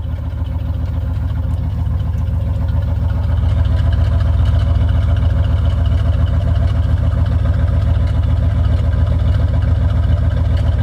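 A GMC Yukon of the OBS generation runs at a steady idle just after its gas tank was relocated, with a continuous close-up rumble that holds even throughout and no talking.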